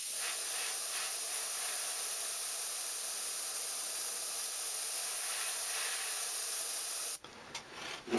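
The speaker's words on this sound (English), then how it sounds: "spray the bottom of this gill with just this light kind of baby blue color" An airbrush sprays light baby blue paint onto the bottom of the gill on a crankbait fishing lure. It makes a steady, close, even hiss for about seven seconds, then cuts off.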